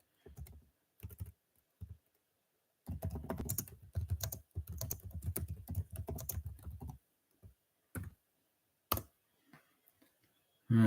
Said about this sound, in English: Let's see if I can type something in the chat.